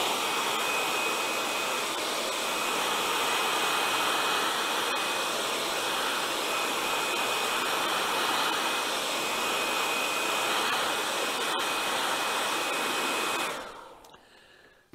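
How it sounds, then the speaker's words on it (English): A standard hair dryer drying fused glass blows with a steady, loud whooshing hum and a thin high whine, running continuously before switching off and winding down. "I have a hair dryer, just a standard hair dryer, and I'm going to take and we're going to dry this"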